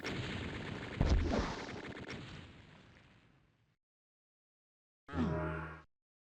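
Gunfire in the game DOOM's Plutonia Experiment, map Anti-Christ, as an enemy is shot: a loud burst of firing around one second that decays over a few seconds, then a second short blast after a pause.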